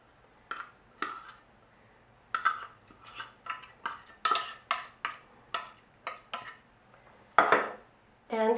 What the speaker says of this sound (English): So then just flake the tuna into the rice.